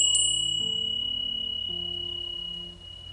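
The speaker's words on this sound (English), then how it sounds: "So I will ring the bell to say this session has started" A single bell is struck to open a meditation session, its bright ring sustaining and slowly fading over a steady low background hum, with no talking.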